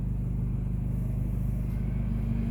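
A 2019 Honda Accord Sport with a 2.0-liter engine, manual gearbox, intake, and exhaust and catalytic converters deleted idles nearby in a parking garage, giving a loud, steady, low rumbling drone with a pulsing exhaust burble.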